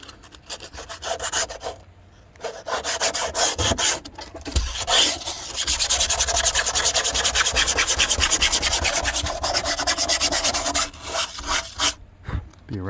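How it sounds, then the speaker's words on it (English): Hand scuffing of a fiberglass gel-coat Jeep hardtop surface, repeated rasping strokes in bursts, steadier in the middle, with brief pauses between sets; no talk. "So I'll go and scuff this up, then clean it with acetone"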